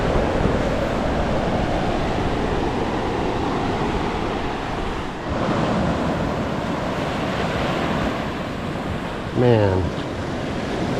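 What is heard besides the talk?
ocean surf waves at College Cove during king tide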